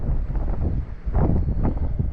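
Wind buffeting a boat on the water during kokanee fishing at Flaming Gorge in December, a low rushing roar battering the microphone in uneven gusts with no voices.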